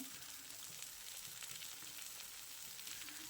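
Moringa flowers frying with softened onions in a pan, a steady, close, continuous sizzle and crackle of hot oil with no pauses throughout.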